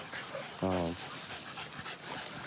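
American Bully dogs panting and whimpering outdoors in a yard, with a short whine in the middle and quieter breathing around it.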